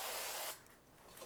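Cooking spray hissing from an aerosol can onto a Bundt pan in a home kitchen, a soft half-second burst of spray that cuts off into quiet.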